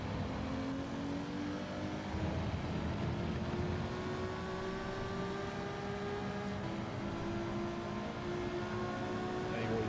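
Race car engines in the Gran Turismo 7 video game drone steadily throughout, several tones layered and rising slowly as cars pull away, loud and continuous with a voice faintly underneath.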